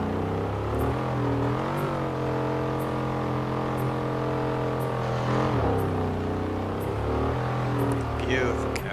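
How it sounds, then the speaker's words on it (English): A 1968 Mustang GT Eleanor with a turbo engine in Forza Horizon 4, drifting, giving a sustained droning engine note whose pitch rises and dips with the throttle, with faint clicks over the top and a voice talking over it. "Hear that turbo, huh?"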